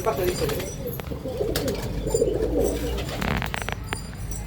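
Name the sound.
flying pigeons cooing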